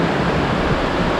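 Fast, clear river water rushes through a mountain valley, a loud, dense and unbroken roar of flowing water heard close up.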